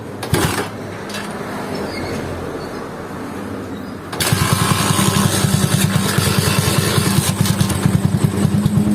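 Rebuilt Honda CB motorcycle engine with a 68 mm piston and 66 mm stroke, kick-started and then running. The mechanical rumble is close and loud, jumps up sharply partway through and then keeps a steady idle, with no voices.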